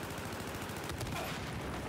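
Dense multiplayer gunfire from the video game Battlefield 4, a steady, continuous barrage of shots packed together with no clear gaps, loud and filling the whole stretch.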